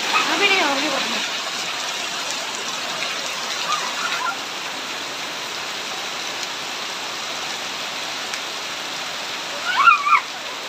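Monsoon rain falls in a steady, even hiss that carries on without a break. A voice rises briefly over it near the start and again near the end.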